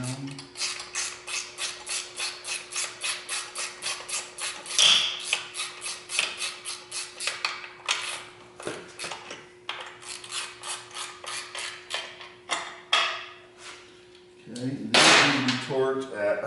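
Bolts on the primary cover of a 2010 Harley-Davidson Ultra CVO being snapped down with a ratchet, a steady run of quick clicking pawl strokes, close and fairly loud, with a brief burst of other handling noise near the end.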